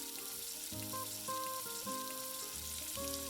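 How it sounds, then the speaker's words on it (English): Spinach koftas deep fry in hot oil with a quiet, steady sizzle and crackle that runs beneath soft background music. "I am sliding the koftas one by one into the hot oil."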